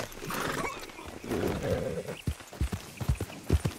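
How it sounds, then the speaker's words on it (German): An Appaloosa horse in the video game Red Dead Redemption 2 gives a whinny, followed by a series of close hoof clops on the ground, with faint background ambience. "so ein schönes Appaloosa"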